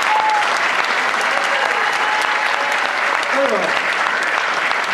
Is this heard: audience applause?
yes